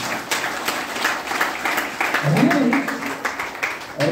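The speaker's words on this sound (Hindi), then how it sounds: "ये जोरदार ताली होना चाहिए।" Audience at a DXN gathering clapping loudly and steadily while someone speaks over the applause.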